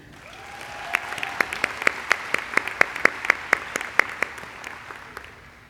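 Scattered, sparse clapping at a 2017 College of New Jersey education commencement, a dozen or so sharp distinct claps in an irregular rhythm over a quiet hall background.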